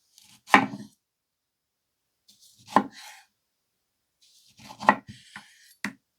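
A Coquus Santoku knife chops food on a board in four sharp, separate knocks spaced about two seconds apart, each a crisp blade-through-board strike with no talk.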